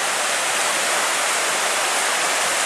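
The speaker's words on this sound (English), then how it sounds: "apart from the sound of the water, as you can hear," Steady rush of flowing water, a constant broadband hiss with no breaks, loud and close, with no voices over it.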